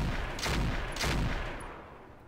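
Rapid bursts of gunfire ring out in Roguetech, a mech combat video game, several loud cracks grouped into two clusters and then trailing off into a fading rumble, with no voices over them.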